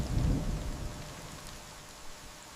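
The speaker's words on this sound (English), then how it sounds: "The heavens spoke in thunder, and humanity listened." A storm brings a low rumble of thunder that swells at the start and then fades into a steady hiss of rain, with no voices.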